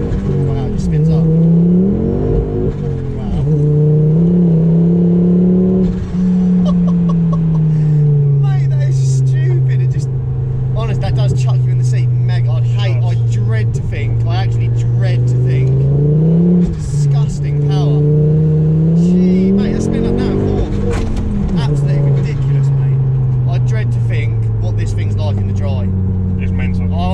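A turbocharged Ford Focus ST, tuned to around 400 bhp with an X37 turbo, revs hard in second gear: a loud, close engine drone climbs and falls in pitch in repeated surges, with someone talking over it.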